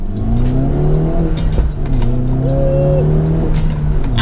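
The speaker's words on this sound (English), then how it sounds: "when you put it in sport mode, that exhaust system just pops and bangs so much" A 2011 Mini JCW Coupe's turbocharged engine revs loud and close in sport mode, the engine note rising and holding steady with a sharp crack or two from the exhaust, and no one talking over it.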